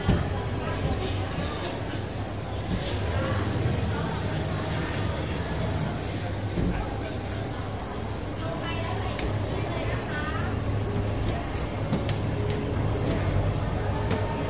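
Heading out from the Pak Bara pier, a triple-engine speedboat gives a continuous loud motor drone and water rush, with a voice talking over it now and then.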